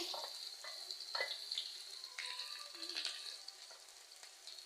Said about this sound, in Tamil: இப்போ இஞ்சி பூண்டு போட்டுக்கலாம்